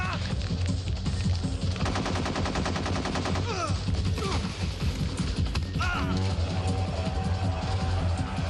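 Gunfire in a Cold War shooter video game: dense rapid automatic bursts and individual shots over a constant low drone, loud and continuous, with occasional mechanical clanks and shouted voices mixed in.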